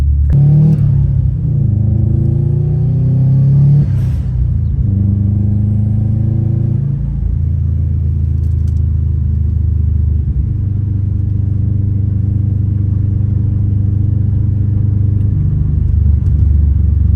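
A 2015 Subaru STI with engine trouble pulls away on a drive, its engine revving up through rising pulls and gear changes before settling into a loud, steady rumble.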